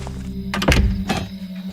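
A door slams shut with a heavy thunk, followed moments later by a second sharp knock as it is locked, both close and loud over a low hum.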